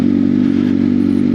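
Big bike motorcycle riding on a solo Sunday ride, a steady loud low engine drone with constant wind rush, no talking.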